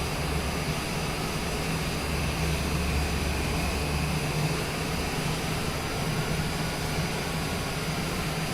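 A small aircraft taking off in Microsoft Flight Simulator 2024 from Monterey, California, a continuous loud engine roar with a low droning hum that stays steady the whole time, no voices over it.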